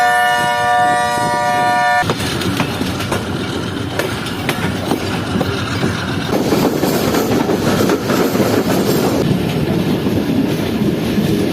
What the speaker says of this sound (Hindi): ट्रेन हमसे पहले आ गई।